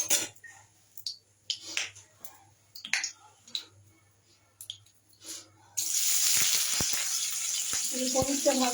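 Paneer hits a hot pan and breaks into a loud, continuous sizzle that fills the second half, after quiet talking with small kitchen clicks and taps.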